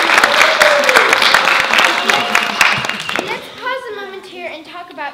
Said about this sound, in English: Take a moment and applaud enthusiastically.